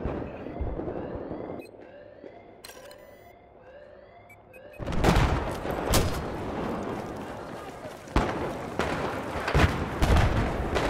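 Mortar fire on a Battlefield 4 Rush match at Dragon's Teeth: repeated loud explosive blasts and thuds arrive in irregular bursts after a quieter opening, with people talking and laughing over the game audio.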